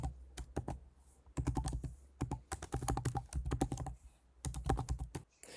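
Keystrokes on a computer keyboard as an email address is typed, in quick bursts of clicks separated by short pauses, close and fairly quiet.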